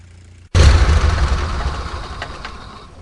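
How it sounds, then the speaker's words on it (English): Aircraft engine in a flight simulator game shutting down with a sudden heavy boom after a moment of quiet, then a loud rumbling roar that slowly fades. "It sounds like a cannon going off when you turn off the engine"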